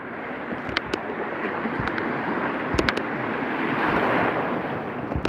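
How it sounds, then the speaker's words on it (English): Sea waves washing around a kayak on a chilly day of spinning for fish, a continuous rushing surf with wind buffeting the microphone and a few sharp splashes close by. "let's brave these waves again,"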